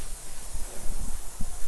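A garden sprinkler head set to a full 180-degree arc sprays water in a close, steady hiss with low gusty pulses, heard alone.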